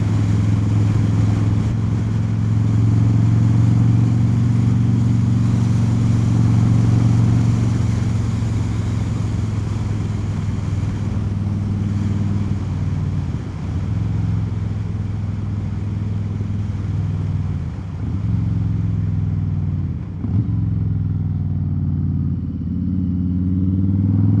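A 2024 Harley-Davidson Low Rider S rolls on in sixth gear, its deep V-twin engine drone steady and loud with a few brief dips, easing off toward the end.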